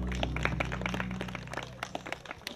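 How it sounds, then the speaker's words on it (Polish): Audience applause for a children's outdoor theatre group from Firlej about to perform Ugly Duckling, a steady wash of many hands clapping throughout with scattered sharper claps, no talking. "Wielkie brawa dla nich!"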